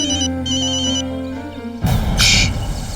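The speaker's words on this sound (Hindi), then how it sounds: "तुम्हारे भाई का फोन है, कुछ भी बोलना मत।" An incoming call rings on a phone as a repeating electronic ringtone melody, loud and near, before other indoor sounds take over.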